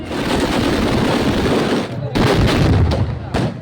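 Firecrackers burst at a village temple festival in a loud, dense, crackling barrage, with a brief dip near the middle before more sharp explosions rattle on close by.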